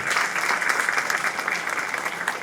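Crowd applause at a DART Silver Line station opening, a steady dense patter of many hands clapping at moderate loudness, continuing without pause and with no voices over it.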